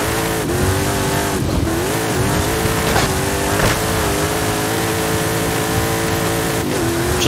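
A Toyota in the racing game Forza Horizon 5 drives and corners, its engine droning loudly and continuously with revs rising and falling through the turns, along with occasional tyre squeal, and no talking.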